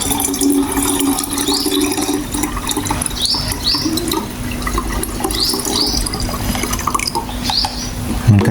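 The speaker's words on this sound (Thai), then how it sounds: "เทปุ๋ยน้ำของเราลงไปในน้ำเปล่าผสมอีกทีหนึ่ง" Liquid fertilizer for lime trees poured into 1.5 litres of plain water, a steady splashing, gurgling stream heard close up and unbroken for several seconds, with no talking.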